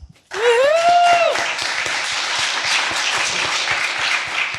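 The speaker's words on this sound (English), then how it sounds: "Let's bring up the first founder with a round of applause." An audience claps to welcome a founder onto the stage at a startup pitch event. The steady, crowded applause enters right after a brief musical sting and carries on without a break.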